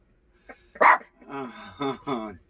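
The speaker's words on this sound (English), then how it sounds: "Everybody knows we got Cooper dog. So he's just protecting us" A house dog barks at someone walking past outside: one sharp, loud bark, then a few tonal, drawn-out barks or whines close by, with no talking over them.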